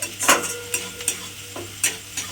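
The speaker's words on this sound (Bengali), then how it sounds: "মশলাটা আমি তেলের মধ্যে দিয়ে দিয়েছি এবারে মশলাটাকে খুব ভালোভাবে কষিয়ে নিতে হবে" Spice masala fries in hot oil while a spatula stirs it. Sharp scraping strokes land every half second or so over a low, constant sizzle, close by and with no talking.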